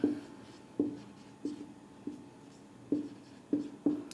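Pen or pencil writing by hand on paper during a physics lesson, a series of distinct scratchy strokes and taps in an irregular rhythm, close and fairly quiet, with no talking.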